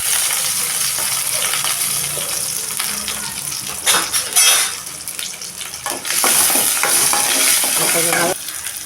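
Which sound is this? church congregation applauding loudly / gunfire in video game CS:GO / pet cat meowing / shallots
shallots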